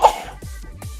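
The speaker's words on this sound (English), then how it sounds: "I had to sneeze real quick." One quick sneeze bursts out right at the start, close and sharp, then trails into soft breathy sounds and quiet.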